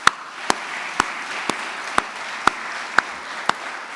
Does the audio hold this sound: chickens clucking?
no